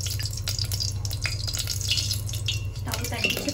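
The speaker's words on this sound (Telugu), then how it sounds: "ఒక మూడు పావులు ఆయిల్ పోసుకుంటున్నా అండి" Cooking oil poured into a steel pot makes a continuous, close trickling and dripping sound over a low hum, with a few faint clinks.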